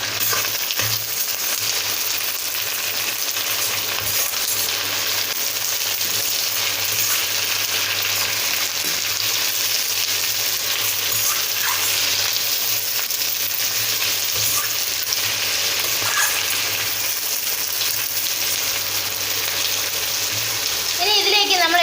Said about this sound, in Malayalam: നമുക്കിനി ഇതിലേക്ക് വേവിച്ച് വെച്ചിരിക്കുന്ന നമ്മുടെ പാവയ്ക്ക ഇട്ട് കൊടുക്കാം. ഇനി നന്നായിട്ടൊന്ന് ഇളക്കി കൊടുക്കാം.